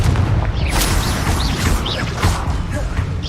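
Fiery Confringo spell blasts in Hogwarts Legacy hard-mode combat make a dense, continuous roar of crackling booms, with whooshing streaks of spellfire sweeping through the busy battle noise.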